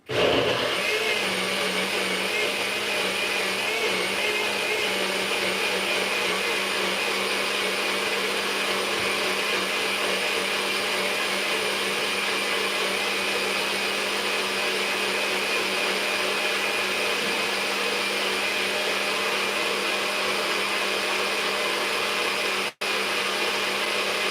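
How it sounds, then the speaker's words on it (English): An electric blender runs continuously at a steady, loud whine in a home kitchen during meal prep, with a brief dip near the end and no talking over it. "Hang on, I have to blend."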